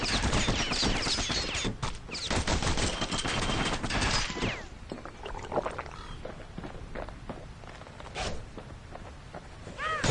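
Dual slinger pistols in the video game Bastion fire in rapid, dense volleys of sharp shots for about four seconds, then thin out into scattered, quieter pops over a busy game background.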